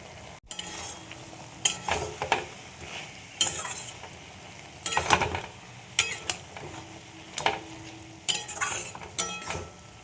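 Spice paste with a little sugar being sautéed and stirred in a pan, a low sizzle broken by repeated scraping and clinking strokes of a spoon against the pan, close and irregular.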